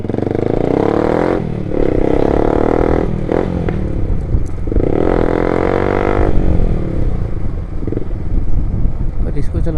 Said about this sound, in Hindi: साउंड चेक करो गाइस, साउंड। कटरा की सेकंड लाउडेस्ट बाइक है शायद।